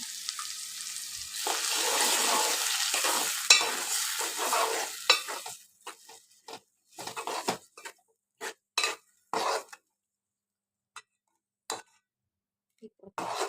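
Tomato juice from blended tomatoes cooking in a pan of egg and meal maker (soya chunk) curry, with steady sizzling and spoon stirring against the pan for about six seconds, then scattered short scrapes and clinks.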